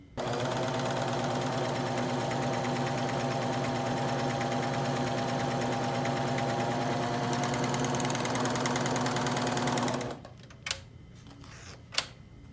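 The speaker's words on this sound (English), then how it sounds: "now I can do a 4-thread overlock stitch" A Baby Lock Vibrant serger running a 4-thread overlock stitch, a loud, steady rapid mechanical whir held for about ten seconds, then stopping, followed by a couple of faint clicks.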